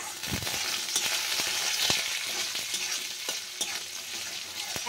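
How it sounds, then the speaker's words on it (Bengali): Onions frying in a pan, with a steady broadband sizzle and scattered spoon-scrape clicks from stirring, close and continuous, with no voices. "এবার পেঁয়াজটা ভালো করে একটু কষিয়ে নিচ্ছি।"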